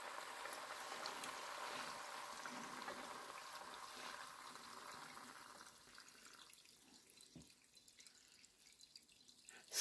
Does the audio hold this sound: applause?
no